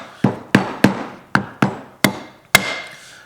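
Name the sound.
mallet tapping stand mixer parts back together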